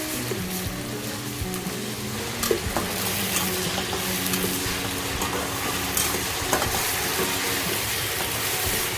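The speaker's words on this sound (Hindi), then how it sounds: "जिंजर गार्लिक का पेस्ट इसमें ऐड कर देंगे और आहिस्ता आहिस्ता मिक्स करते जाएंगे" Steady loud sizzling of ginger garlic paste frying in a hot pan, with occasional scrapes and taps as it is stirred, continuous throughout.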